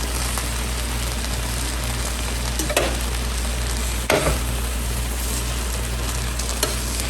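Kale sautéing in garlic, red pepper, butter and olive oil, with a steady, close, even sizzle and a couple of brief stirring scrapes.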